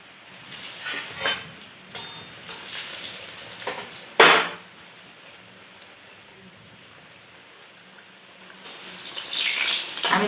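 Palm-fruit saptapuri pastries frying in hot oil give scattered crackles and pops, with one sharp burst, then a building sizzle toward the end, close and moderately loud with no talking.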